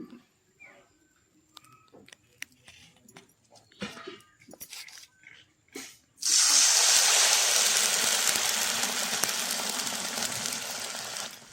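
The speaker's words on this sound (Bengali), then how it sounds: "তার সঙ্গে দিয়ে দেবো আমি 1 বাটি জল।" A bowl of water poured into a pan holding sugar. After a few light clinks, a loud, steady gushing rush starts and continues to the end, with no talking.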